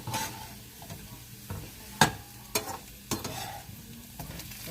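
Southern smothered potatoes sizzling steadily in a pan while a spatula flips them, with a few sharp scrapes and clacks standing out over the continuous frying hiss.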